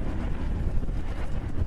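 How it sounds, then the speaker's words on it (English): Strong wind rushes and buffets the microphone during the Santa Rosa wildfire, a loud, continuous low roar with gusty swells and no speech. "Now the winds are picking up and swirling around."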